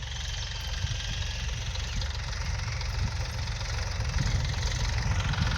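A tractor sowing onion seed in a farm field runs with a steady, low, knocking engine chug that stays close and even throughout.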